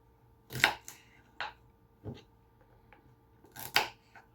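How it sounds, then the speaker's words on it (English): A few sharp knife chops on a cutting board cutting bell pepper, spaced irregularly, with quiet pauses between the cuts. "I'm just chopping it up a little bit."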